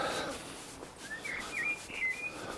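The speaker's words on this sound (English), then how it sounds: "Birds are singing." Morning birdsong drifts through open air, a few thin whistled phrases and chirps rising and falling at moderate distance over a soft outdoor hiss.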